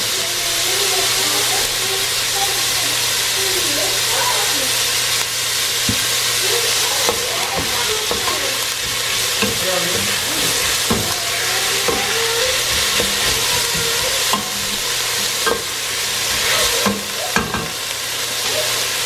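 Garlic and onion fry in a pan for a vegan butternut squash soup, giving a loud, continuous sizzle and hiss broken by scraping stirring clatters, with no talking.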